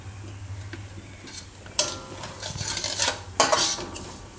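A spoon scrapes and clinks against a pan while bread pineapple halwa is roasted and stirred, irregular metallic knocks and scrapes up close, with a faint low hum in the first half.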